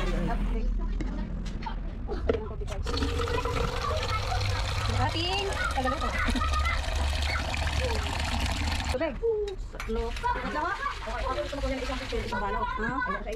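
Water pours into a cooking pot for pancit, a continuous splashing trickle lasting several seconds, with people chatting in the background before and after.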